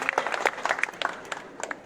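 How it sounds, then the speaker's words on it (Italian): Audience applause for the host's assistant at a Lega political talk in Vimercate, a short burst of scattered, fairly light clapping from a modest crowd, without talk. "vorrei un applauso per il valletto"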